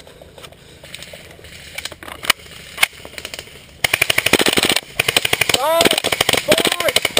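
Airsoft guns fire during a bunker defense game, with a WE SCAR-L gas blowback among them. Scattered single shots give way to rapid, loud bursts close by. A voice counts down and calls out over the shooting.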